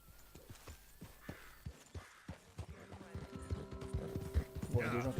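Horse hooves in Red Dead Redemption II on Xbox One, a steady clip-clop of a ridden horse at a walking pace, fairly faint, with a soft tonal game backdrop and a creak or two that builds toward the end.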